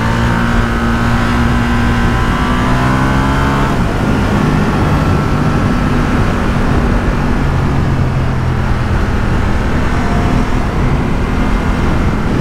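A motorcycle engine drones loudly and steadily while riding through corners on a road kept at the speed limit, with wind rush over it and slight shifts in engine pitch.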